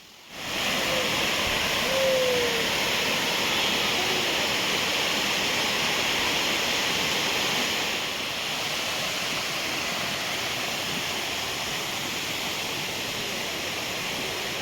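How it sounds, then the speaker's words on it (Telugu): Steady, loud rushing roar of a hidden waterfall near Srisailam, a continuous broadband wash of falling water with no breaks, close and enveloping throughout. "మన బ్యాక్గ్రౌండ్లో వాటర్ ఫాల్స్ అయితే కనిపిస్తుంది"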